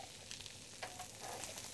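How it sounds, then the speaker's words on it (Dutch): Chicory caramelizes in butter in a frying pan, giving a soft, steady sizzle with a few faint stirring scrapes and no talking. "Die witlof die karamelliseren we met een beetje boter in de pan."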